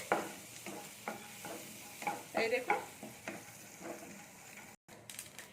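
Mustard seeds, cumin and black dal frying lightly in a pan, a soft sizzle broken by repeated scraping stirring strokes and small crackles, fairly quiet and close, no voices.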